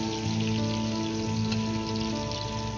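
Ash gourd pieces frying in hot oil give a steady, dense sizzle like light rain, continuous and fairly loud throughout, with a faint tonal hum underneath and no speech.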